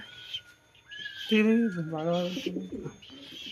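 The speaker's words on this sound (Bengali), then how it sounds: "এই পায়রা বেরিয়ে গেছে" A pigeon coos nearby in a low, wavering call, with voices talking around it.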